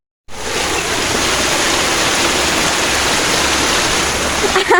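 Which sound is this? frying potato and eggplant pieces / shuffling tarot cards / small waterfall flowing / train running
small waterfall flowing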